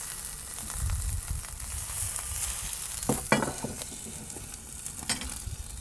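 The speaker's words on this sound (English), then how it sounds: "And now we're ready to fry them. Time to get these babies in. It's very hot, so you have to be quick." Carabinero prawns sizzle in a very hot pan, a dense steady crackle and hiss with bursts of sharper spitting and scraping as they are moved, close and fairly loud with no talking.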